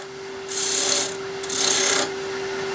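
Two short, close scraping passes of a 3/4 inch skew chisel take a peeling cut on wood spinning on a lathe, each a bright rasping hiss over the steady hum of the running lathe.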